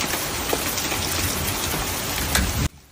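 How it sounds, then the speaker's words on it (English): A hailstorm pounds down outdoors in Tallahassee, Florida: a dense, loud, continuous clatter of falling ice and rain that cuts off abruptly near the end. "It's hailing too."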